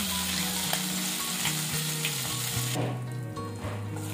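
Ground moong dal paste frying in a pan for a sweet halwa made with jaggery: a loud, dense sizzle and crackle runs throughout, close up and alone, and it drops somewhat toward the end as stirring settles.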